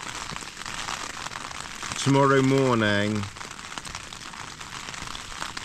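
Steady rain drums on a tent, a dense crackling patter that runs throughout, with a short stretch of close speech laid over it midway.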